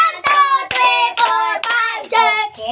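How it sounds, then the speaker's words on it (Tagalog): Students in a Filipino classroom clap five times in unison, each crisp clap paired with voices chanting together, evenly spaced and close. "bigyan nyo ang inyong sarili ng 5 palakpak"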